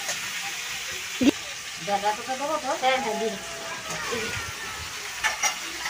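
Tomatoes and spices fry in a pan with a soft sizzle beneath, while people talk over it and a brief knock sounds early on.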